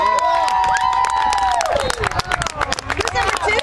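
Crowd cheering and shouting at a youth high school freshman football game, a rising whistle-like call over loud continuous crowd noise with bursts of clapping and voices close by.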